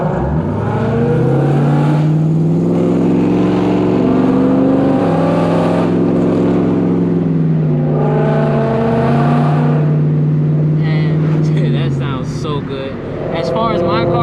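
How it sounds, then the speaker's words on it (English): Ford Mustang Coyote V8 fitted with BBK long-tube headers, an X-pipe and Corsa Sport exhaust, droning loudly through long sustained pulls with shifts between them, under a voice. "full exhaust BBK long tube headers. It might be catted X pipe, I don't know. And Corsa Sport exhaust."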